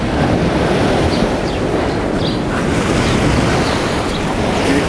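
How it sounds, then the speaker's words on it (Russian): Sea surf along a Turkish beach near a hotel, a loud continuous wash of breaking waves mixed with rumbling wind buffeting the microphone, with no voices. "Ну вот, море."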